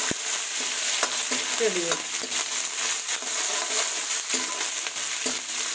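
Onion fries in a hot pan with a loud, steady sizzle, broken by occasional scrapes and knocks of a stirring utensil. A voice speaks a word briefly.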